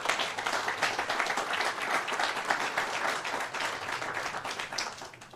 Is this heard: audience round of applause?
yes